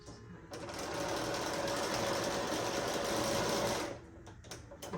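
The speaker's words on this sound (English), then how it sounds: "Now I'm just gonna go ahead and sew this strap into place before we put the lining on." A sewing machine runs steadily for about three and a half seconds, stitching an apron strap into place, loud and close, then stops with a few small handling clicks.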